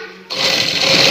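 A sewing machine starts abruptly and runs in a fast, steady whir while stitching a trouser hem, loud and close.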